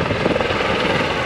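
An Airbus ACH130 helicopter taking off, its rotor and turbine producing a loud, close, steady thrumming roar that fills the brief moment without any voices.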